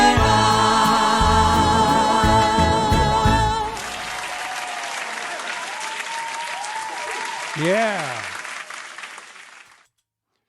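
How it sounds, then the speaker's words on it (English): Applause from an audience after a live performance of a 1950s song, loud clapping that starts under the final sung note, swells, then fades away, with a brief spoken word near the end. "Yes, it was a huge applause."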